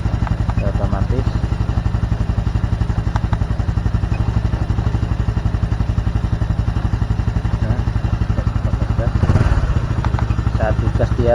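Honda Supra X 125 Fi motorcycle engine running steadily near at around 1300–1400 rpm, with a fast, even mechanical pulse throughout and a brief throttle blip near the end.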